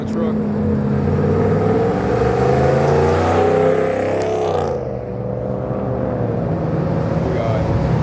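A truck pulls up at a car meet, its engine rumbling loud and close and building through a rev before easing off and idling, with voices talking over it.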